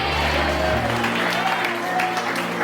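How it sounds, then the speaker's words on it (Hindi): A congregation claps in unison at a worship gathering, a steady dense wash of applause filling the whole stretch with crowd noise and a low sustained musical tone underneath. "जो विश्वास करते ताली बजाते हुए स्वीकार करते"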